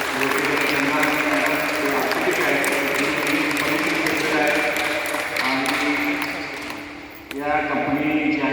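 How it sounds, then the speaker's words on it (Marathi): Audience applause for Rotarians at a Rotary Club Kolhapur fitness event at Shivaji University, a dense sustained clapping wash lasting throughout, dipping briefly near the end before swelling again. "रोटेरियन प्रमोदजी, यांच्यासाठी जरा जोरदार टाळ्या"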